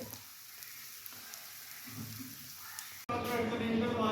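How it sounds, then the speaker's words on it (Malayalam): Fish fries in a pan with a soft, continuous sizzle and faint crackles, then an abrupt cut to a louder, brighter hiss of hot oil. "അങ്ങനെ ഫൈനലി നമ്മുടെ മീനും വറുത്തെടുത്തു"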